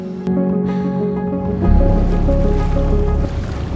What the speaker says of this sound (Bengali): ছুটে চলেছে পাহাড় ঘেরা নদীপথে বাতাসের ঝাপটা পানির গর্জন